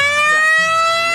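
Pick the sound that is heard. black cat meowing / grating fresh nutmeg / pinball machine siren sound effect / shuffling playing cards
pinball machine siren sound effect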